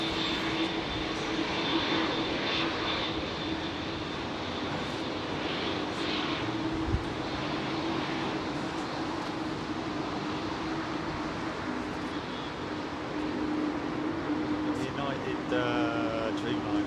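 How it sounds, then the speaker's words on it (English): A United Boeing Dreamliner lands on runway 27R at London Heathrow, its engines producing a steady, loud roar with a sustained whine that holds throughout, while people talk nearby. "United Dreamliner."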